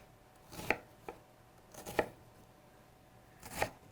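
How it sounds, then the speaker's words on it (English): Three crisp knife strikes land on a cutting board as food is chopped at quarter-inch intervals, spaced unevenly over a few seconds with a softer tap between the first two, close and clear against quiet room tone. "And chop right into it."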